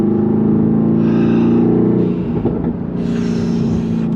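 Mercedes-AMG GT R sports car engine under throttle, a loud, close, steady roar with rising rev tones and a brief dip before surging again.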